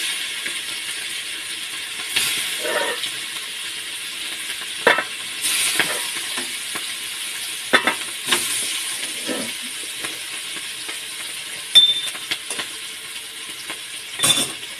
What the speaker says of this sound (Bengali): মাছ ভাজা হয়ে গেল, আর একটু বাকি আছে